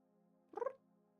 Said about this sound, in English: My cat being cute.